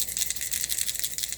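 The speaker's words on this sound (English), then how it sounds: "They rattle pretty good." Hard bait fishing lure shaken by hand, its internal rattle giving a rapid series of bright, close clicking taps throughout, with no voices.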